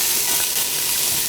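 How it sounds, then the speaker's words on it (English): Chopped onion sizzles in a stock pot sprayed with cooking spray, a close, steady crackling hiss that runs without a break. "that's what you want to hear, is that nice little sizzle"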